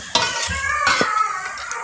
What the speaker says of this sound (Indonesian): Goreng bakwan jagung.